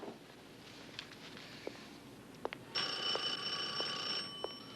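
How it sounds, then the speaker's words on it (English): A telephone in a quiet room starts ringing partway through, a steady electronic bell tone that holds for a couple of seconds over faint background, preceded by a few soft footsteps or knocks. "your phone's ringing"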